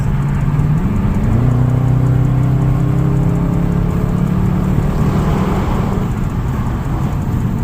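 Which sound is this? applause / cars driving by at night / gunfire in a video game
cars driving by at night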